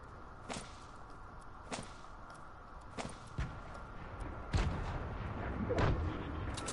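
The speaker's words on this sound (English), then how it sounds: "I hear shooting" Distant gunshots and explosive grenade thumps in a Fortnite creative match, sharp isolated cracks spaced a second or so apart over steady low background noise, a heavier blast landing near the end.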